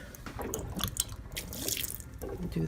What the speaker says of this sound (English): And I'll just get a little water.